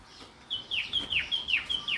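Wild bulbuls in a bird reserve give a quick run of bright, repeated chirps, about six sharp descending notes in close succession, fairly near and clear over faint background noise.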